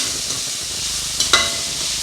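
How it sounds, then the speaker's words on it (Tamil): Vegetables sautéing with salt in a pan for veg egg noodles give a steady, close frying hiss, with two quick stirring clicks near the end. "உப்பு சேர்த்து வதக்கும்போது காய்கறி சீக்கிரமாக வதங்கி வந்துடும்"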